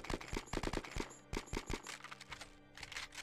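Gunfire in the Conflict: Desert Storm 2 video game, with rapid automatic bursts and single shots echoing in quick succession at moderate volume and no talking.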